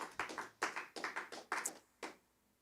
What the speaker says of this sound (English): The clapping has greatly improved.